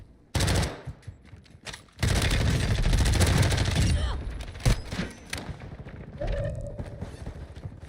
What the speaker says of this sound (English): Freaking guy with a shotgun on me